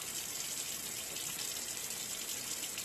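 Tap water runs steadily onto a vape coil in a Limitless Gold edition RDTA being rewicked after a dry burn, a continuous close hiss and splash with no talk.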